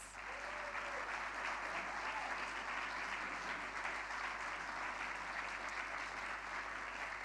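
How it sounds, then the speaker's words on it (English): Sustained applause from a large audience at a literary awards ceremony, an even wash of clapping that holds steady throughout. "Please give them a round of applause."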